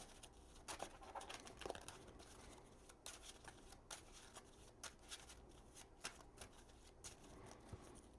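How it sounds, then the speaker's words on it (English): A deck of Marvel Champions villain cards being shuffled by hand: quiet, close riffling and snapping of card stock in repeated bursts, with soft rustles and taps in between and no talking. "give that a shuffle."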